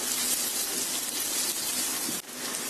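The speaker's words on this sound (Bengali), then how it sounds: "এখন আমি তেলের মধ্যে দিয়ে দিচ্ছি আধা কাপ পেঁয়াজ কুচি। পেঁয়াজটা একটু ভেজে নিব।" Half a cup of chopped onion frying in hot soybean oil: a dense, steady sizzle and crackle like rain on a surface, close and loud, with a brief dip near the end and no speech.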